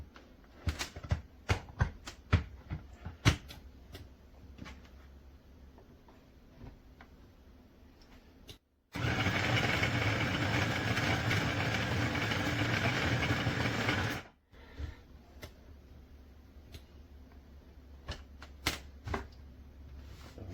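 TURNRISE 250W electric chicken shredder, its motor running in a loud, steady whirring burst of about five seconds between stretches of quiet clicking and handling noises.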